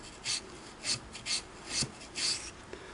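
Cotton swab scrubbing inside the works of a black-finish Singer Model 22 sewing machine, heard as five close, soft raspy rubbing strokes spaced roughly evenly, with quiet pauses between them and no talk.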